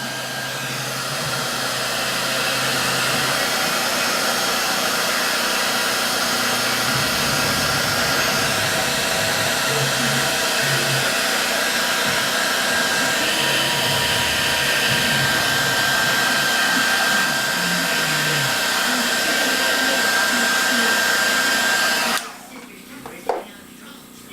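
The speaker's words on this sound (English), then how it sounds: "Go ahead and use my dryer since I got a little too wet" A hair dryer blows loudly and continuously at close range for about twenty seconds, with a person speaking faintly beneath it, then it switches off.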